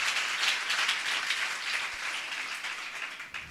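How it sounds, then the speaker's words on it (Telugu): A church audience claps loudly in praise of God, a dense, continuous wash of many hands at close range, steady throughout and tapering slightly toward the end, with no talking over it. "నమ్మిన వాళ్ళు గట్టిగా చప్పట్లు కొడుతూ దేవుని మహిమపరచాలి."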